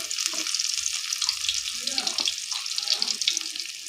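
Garlic cloves drop into cumin-tempered hot oil in a wok, bright continuous sizzling and crackling close by, with faint low clatters mixed in.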